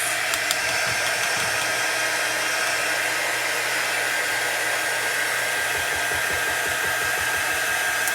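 Hair dryer blowing on wet chalk paste paint, a loud, steady close-up whoosh holding for the whole stretch with a faint rattle underneath, no voices.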